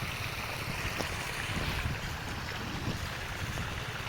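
Water from a pump-fed pipe pours steadily out in a village field, a close, even rushing and splashing wash that holds without a break.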